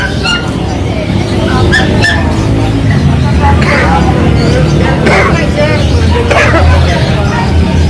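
Dogs, Shih Tzus and mixed breeds, at a busy pet market, giving scattered barks and whimpers amid loud crowd hubbub and traffic noise, with people talking nearby.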